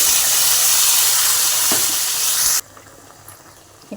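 Loud, hissing sizzle as freshly ground green masala hits hot oil with popped mustard seeds and curry leaves in a pan for a ribbon fish gravy, sustained for over two seconds before dropping sharply to a quieter crackle.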